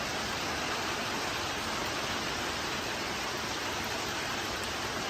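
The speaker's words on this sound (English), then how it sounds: "But look at this beautiful rain." Heavy rain drums on a tin roof in a steady, dense, unbroken hiss that stays loud and even from start to finish, with no pauses or separate drops standing out.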